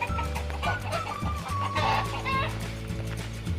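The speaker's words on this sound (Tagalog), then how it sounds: "Naiingi talaga yung mga manok." Backyard chickens cluck in short, repeated bursts at close range on a rainy afternoon in a home vegetable garden, with a steady low background hum beneath them.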